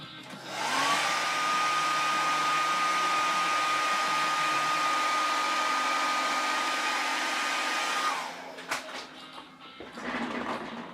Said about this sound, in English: I'll hit it with the blow dryer.